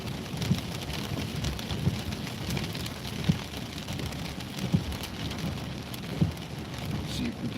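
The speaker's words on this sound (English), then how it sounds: "This is all definitely heavy rain and clouds" Heavy rain during a storm in Minnesota, a dense continuous wash of drops drumming on a vehicle, with periodic soft thumps and no talk.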